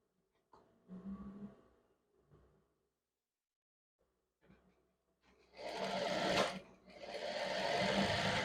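Domestic sewing machine stitching a sleeve cap on a women's zip scrub top, a few short quiet bursts early, then two longer loud runs of rapid stitching near the end.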